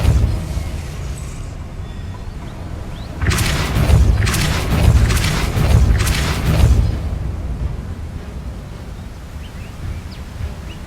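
Depulso spell cast in Hogwarts Legacy, a deep rumbling magical burst of several heavy booming pulses lasting a few seconds, then fading to quiet ambience.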